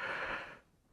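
A single breathy yawn, a long airy exhale that fades out over about half a second, close and fairly quiet, with no speech.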